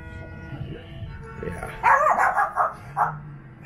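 Several sharp dog barks in a quick burst, fairly close, over a low background hum.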